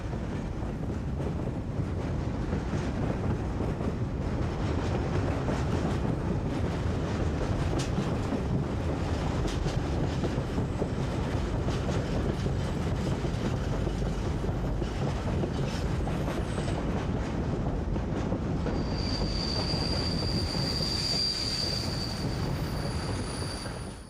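A freight train hauled by a 63500 class Bo-Bo diesel-electric locomotive rolls past near Nantes, a loud, steady rumble of wheels and wagons lasting throughout, with a high squeal rising toward the end and wind buffeting the microphone.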